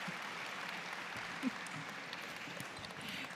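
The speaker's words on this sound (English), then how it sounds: "Give a round of applause for Stella." At an Indigenous graduation celebration, a crowd gives a faint, distant round of applause as a young dancer is welcomed out, a soft, steady patter of many hands in a large space.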